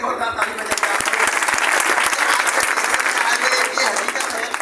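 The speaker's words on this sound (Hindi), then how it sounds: "उनके लिए फिर से जोरदार ताली बजाइए आप।" Sustained applause fills a hall as an audience claps for Himanshu sir, dense and steady throughout, close and loud with no break.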